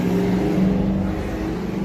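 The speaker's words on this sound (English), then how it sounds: "Sorry, traffic issues. Everything's so loud." Steady low rumble of road traffic, loud and continuous, with engine drone and a passing-vehicle wash throughout.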